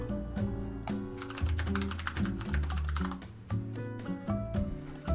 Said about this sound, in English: It is the Iquinix F96 with cherry blue switches, so super clacky, not great for an office